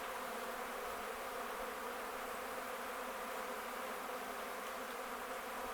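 Steady, dense buzzing of many honey bees around an open hive during an inspection, close by, a continuous hum with no pauses and no voices.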